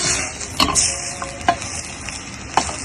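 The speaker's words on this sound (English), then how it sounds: "Stir it properly" Food being stirred in a hot pan on a stove, with a steady sizzle of frying underneath and a few sharp scrapes and clinks of the utensil against the pan, close and alone.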